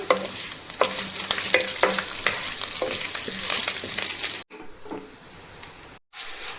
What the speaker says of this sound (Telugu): ఈ పోపులన్నీ కూడా వేగేంత వరకు అయితే వెయిట్ చేద్దాము